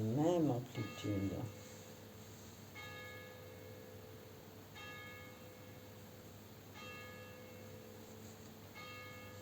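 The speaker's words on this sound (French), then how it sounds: "est-ce que vous êtes là ou est-ce que vous êtes au son des cloches?" Church bells toll slowly in the distance, each stroke ringing out and lingering over a steady background hum, while a voice speaks softly at the start.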